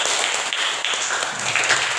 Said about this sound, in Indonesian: Ayo berikan tepuk tangan untuk teman kita Gusmin